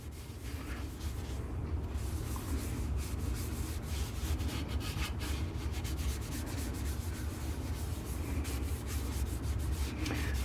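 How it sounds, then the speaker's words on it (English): Hampshire Sheen finish being rubbed by hand onto a turned live edge cedar vase, a continuous close, soft rubbing and swishing friction sound with steady texture and no talking. "So we'll get some Hampshire sheen original on this. We'll just rub this in by hand all over."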